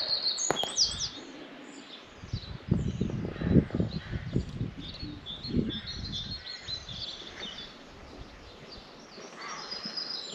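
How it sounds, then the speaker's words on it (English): Small bird chirping outdoors during a countryside walk in Kingston near Lewes, East Sussex, with a few brief high calls early on over steady wind and low rumbling ambience. "A little bird,"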